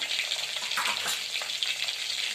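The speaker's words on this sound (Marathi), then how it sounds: "ही फोडणी आपण मस्त अशी थोडी परतून घेऊया" Spices sizzle steadily in hot oil as a tempering of red chilli powder, black masala, turmeric and asafoetida is sautéed for a Khandeshi dish. The hiss is close, continuous and fairly loud, with no voices.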